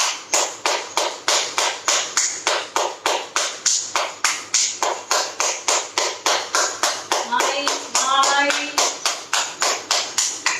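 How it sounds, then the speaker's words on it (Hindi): Rapid, evenly spaced hand claps repeat steadily through a yoga exercise, loud and close, with a brief voice partway through. "आपने 100 टाइम्स ये वाली ताली बजा दी"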